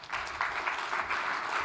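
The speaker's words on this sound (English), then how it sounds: "Yeah, applause." A conference audience at a medical additive-manufacturing pitch session claps briefly as a presenter takes the stage. The applause is short, soft and even, and sounds somewhat distant.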